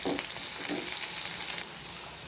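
Ivy gourd pieces frying in sesame oil give off a steady, soft sizzle, a continuous crackling hiss with no voices over it.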